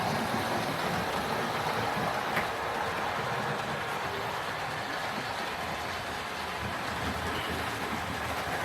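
A Hornby GWR 4-4-0 County Class model locomotive whizzing around its track, a steady close whirring rumble of motor and wheels that holds at an even level throughout.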